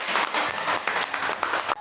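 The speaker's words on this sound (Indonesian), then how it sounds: "tepuk tangan untuk ini." Applause from a classroom audience of teachers, a dense steady patter of many hands clapping close by for under two seconds, cutting off abruptly at the end.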